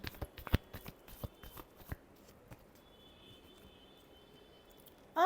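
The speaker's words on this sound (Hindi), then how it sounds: "Last shuffle." Tarot cards being shuffled in a quick run of soft riffles and taps, close and fairly faint, followed by near silence with a thin high tone.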